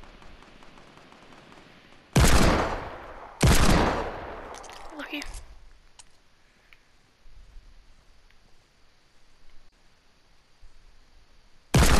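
Fortnite gunfire sounds as two loud, sharp shot bursts close together, then a scatter of quieter distant pops, and one more loud shot right at the end, with long stretches of low background between.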